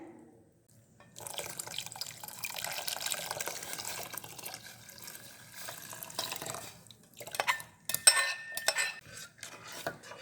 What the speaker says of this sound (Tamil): இப்போ வந்து இந்த மாவை கரைச்சி ஊற்றிடலாங்க